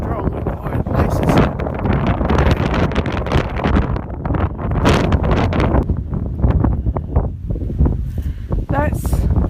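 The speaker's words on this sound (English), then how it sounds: "That wind is really strong in quiet places." Strong wind buffets the microphone on a Lake District fell path, a loud, steady roar with gusting rushes throughout and no break.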